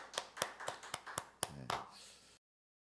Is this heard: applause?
yes